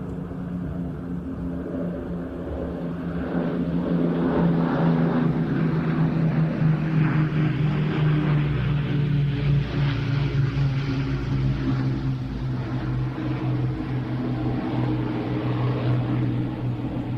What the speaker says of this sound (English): Now here we go for a dirty pass, gear down, get your cameras ready.